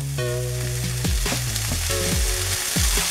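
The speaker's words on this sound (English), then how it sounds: "I'm going to saute these until it's a little softened" Onions and celery sauté in a pan, a steady close sizzle running throughout, punctuated by repeated scraping and clinking as a utensil moves them around.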